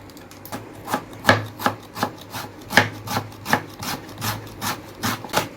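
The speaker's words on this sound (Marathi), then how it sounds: "सगळीकडे कांदा बारीक कटिंग करून घेऊया" A knife finely chopping onion on a board, with a quick, close run of sharp, evenly spaced taps and no voices.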